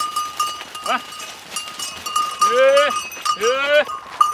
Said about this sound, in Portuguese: um homem de chapéu de couro tange bodes